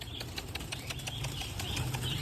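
A flurry of wings flapping rapidly, several pigeons released and taking off together, close by over a steady noisy background.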